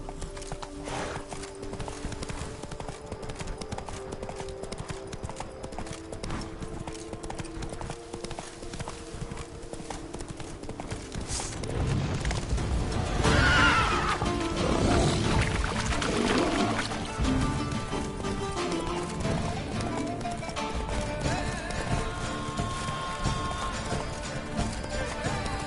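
Hooves of Roach, a horse in a PS4 video game, clip-clop steadily and then break into a louder, heavier gallop partway through, with a possible whinny, over a constant layer of game background sound.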